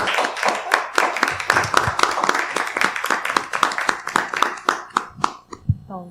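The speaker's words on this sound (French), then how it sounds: "On va applaudir." Clapping from a panel audience on waste-management solutions, crisp and fairly close, with many distinct hand strikes at first that thin out to a few scattered claps by the end.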